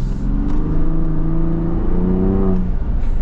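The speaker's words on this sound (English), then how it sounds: "It's like you just go through it with a Bronco Raptor." A Ford Bronco Raptor driving off-road holds a steady, loud engine drone that rises in revs and pitch partway through, with no talking.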